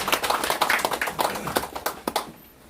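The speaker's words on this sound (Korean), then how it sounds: "강사 목사님에서 우리 박수 한번 해주시기 바라겠습니다." A modest church gathering claps for a visiting pastor as he comes forward, a scattered, moderately loud patter of hands that thins out and fades near the end.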